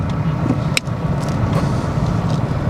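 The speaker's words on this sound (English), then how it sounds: "we're driving into the car park" Car with rusted brakes rolling into a Tesco supermarket car park, a steady close engine and road rumble with a brief clunk near the start and no voices.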